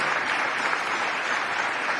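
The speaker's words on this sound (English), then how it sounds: "Let's give yourselves a round of applause as well" An audience at a New York advanced technology groundbreaking event gives a round of applause, a dense, even roar of clapping at close range without pause.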